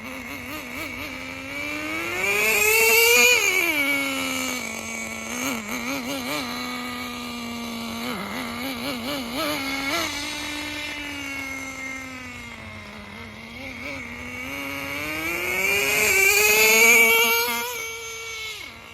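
A Thunder Tiger Tomahawk RC car with a two-speed setup running at speed, its high electric-sounding whine rising and falling in pitch, swelling loudest twice as it revs up and then easing back.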